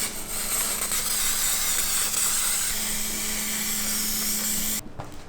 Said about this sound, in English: And now we'll spray the sidewall foams too.